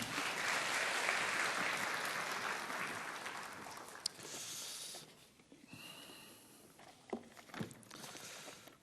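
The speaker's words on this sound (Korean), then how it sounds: "예, 박수 한번 할까요?" A church congregation claps during an evening youth worship service, a dense wash of applause that is loud at first and gradually thins out into scattered claps and quiet.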